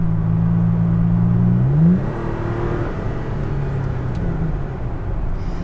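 A 2018 Toyota Tacoma TRD Pro with a six-speed automatic in 4th gear accelerates hard, its engine drone rising steadily in pitch, then dropping and climbing again, loud and continuous from inside the cab.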